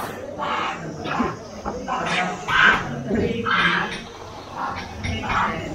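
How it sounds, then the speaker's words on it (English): Dogs bark excitedly at monkeys in a street in McLeod Ganj, a Himalayan town in India, with repeated yelping barks in bursts against busy outdoor background noise. "Okay, we have dogs and monkeys."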